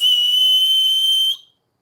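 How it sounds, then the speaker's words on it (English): A hawk-shaped whistle with a beak and eye is blown in one steady, loud, high-pitched tone lasting over a second before cutting off cleanly. "it's a working whistle."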